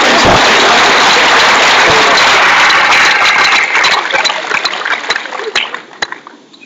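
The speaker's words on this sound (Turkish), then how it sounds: "Alkışlar." Loud, dense applause from a seminar audience fills the room, then gradually thins into scattered claps that trail off toward the end.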